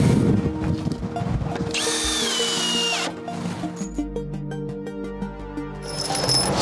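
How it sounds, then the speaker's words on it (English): A power drill drives screws into timber formwork for an off-form concrete wall corner, with short whining bursts of the motor between clatters and knocks of timber, loud and close. "when I screw the front, it's gonna pull in, pushing these timbers that way and tightening up the corner"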